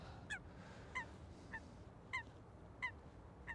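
Water bird honks and squeaks at Schiphol Airport, about six short calls at roughly even intervals, fairly near, over a steady low rumble of airport background noise.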